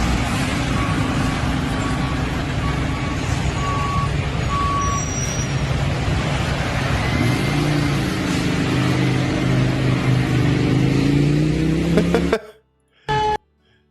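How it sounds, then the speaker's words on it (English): A large truck rumbles steadily and loudly past at close range, with a beeping tone in places, before cutting off abruptly near the end. "Here's the fire truck actually finally getting around to it."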